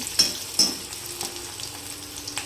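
Chopped capsicum with carrot fries in a pan, giving a steady soft sizzle broken by a few scraping stirs of a spatula.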